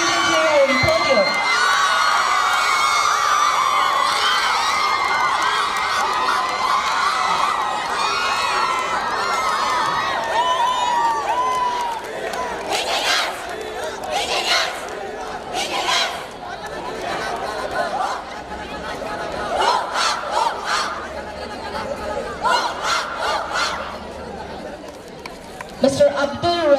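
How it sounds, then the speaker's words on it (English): A loud, continuous crowd at an inter-college sports meet in Mangaluru roars for the men's individual championship winner, with whoops, shouts and cheering swelling over steady chatter and talking. "A big round of applause to the winner."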